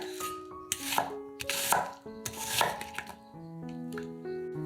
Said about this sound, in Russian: Одну луковицу нарезаем произвольными кусками.